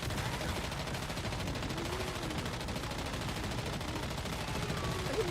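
Gunfire in the survival shooter Once Human rattles on as a dense, continuous burst of rapid shots from start to finish, fairly loud and steady, with no clear talk over it.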